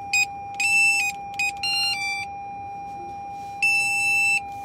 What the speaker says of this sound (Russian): Что это пищит?